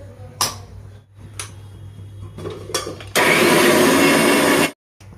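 A kitchen blender grinds spices, including coriander powder and cumin, into a paste: a few quiet knocks and clicks, then a loud, steady whirring roar for about a second and a half before stopping abruptly.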